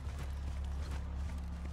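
Steady clip-clop of a horse's hooves in a video game, quick even beats over a low constant hum.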